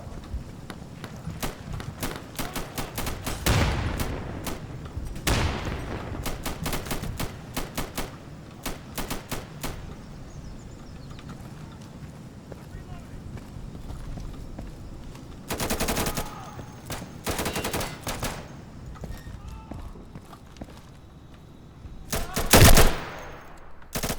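Gunfire in a New World PvP battle, with bursts of rapid shots and single loud cracks scattered across a busy game background, some close and sharp, others more distant.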